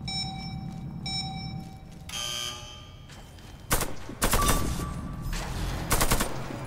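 AK-103 gunfire in the video game Warface comes in loud, rapid automatic bursts that start and stop several times, with short electronic tones and interface beeps between them.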